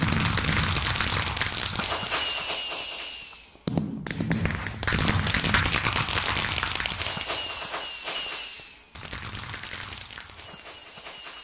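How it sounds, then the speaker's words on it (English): Small celebratory fireworks, loud close bursts of fizzing crackle and rapid pops repeating in several waves, each swelling then dropping off before the next volley. "Set off a few little fireworks to celebrate."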